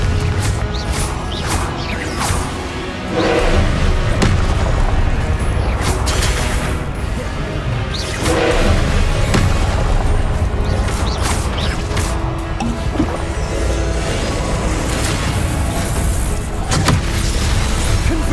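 Repeated Confringo spell explosions in the video game Hogwarts Legacy, loud crashing blasts and booming impacts over dense game noise across a long stretch, with brief shouted spell calls now and then.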